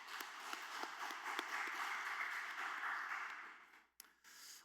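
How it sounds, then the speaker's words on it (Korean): A church congregation at an early-morning family prayer service applauds in blessing after a hymn, a soft, diffuse patter of many hands that swells and holds, then breaks off abruptly before a brief resumption. "축복하는 박수 한 번 더 합니다."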